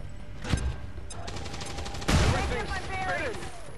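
Flashbang grenades go off in the strategy game XCOM 2 Long War 2, two sharp blasts about a second and a half apart over a constant game soundscape, with faint electronic warbling after the second.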